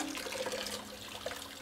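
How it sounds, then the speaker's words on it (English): Cold tap water runs steadily onto the back of a hot metal pan, a continuous close splashing rush with no talk. "Let me run some cold water on the back of this just to kind of cool this down."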